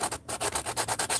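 A hand sander scratches over an aluminum ingot in steady back-and-forth strokes, about eight rhythmic rasping passes after a brief pause, close and fairly loud with no talk.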